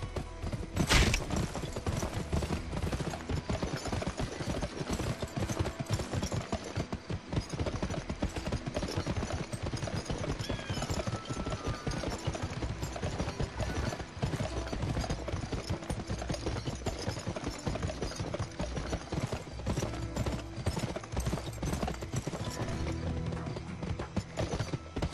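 Horses galloping in a horse race in the Western video game Gun, a dense, continuous drumming of hooves that stays loud and driving throughout, with a brief whinny near the start.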